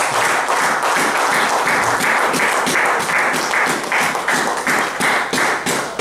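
A church congregation applauding, dense sustained clapping from many hands that stays loud and even throughout with no voices over it.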